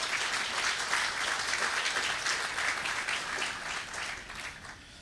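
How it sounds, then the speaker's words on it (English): At a State of the City gathering, the crowd gives a round of applause for Dr. Joe Nakagawa and the police department, a full, continuous clapping that eases off slightly in the final moment. "Let's give a big round of applause to Dr."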